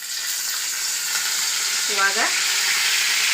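Curry leaves crackle in hot oil, a steady broadband sizzle with a brief stirring scrape near the middle and a short spoken word over it.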